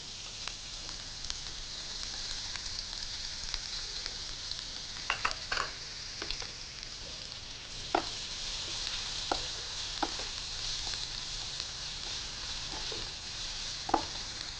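Onions frying in hot oil produce a soft, steady sizzle with a few faint clicks and taps scattered through, fairly quiet and without talk.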